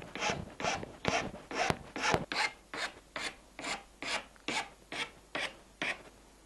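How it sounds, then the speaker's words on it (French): A metal file rasps a cone shape into the end of a rod, with about a dozen steady back-and-forth strokes in an even rhythm, close and clear. "on va limer de façon à faire un espèce de cône dans l'extrémité"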